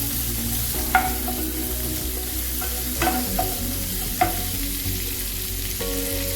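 Chopped green chillies fry in a pan for rava idli, a close continuous sizzle broken by several sharp spatula scrapes and clinks against the pan.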